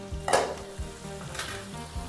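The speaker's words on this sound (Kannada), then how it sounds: "ಟೊಮೊಟೊನು ಸ್ವಲ್ಪ ಚೆನ್ನಾಗಿ ಫ್ರೈ ಮಾಡ್ಕೊಂಬಿಡೋಣ." Capsicum and tomatoes fry in a pan for Udupi-style bisibele bath, a close, steady sizzle broken by a few light scrapes of stirring, with no talk.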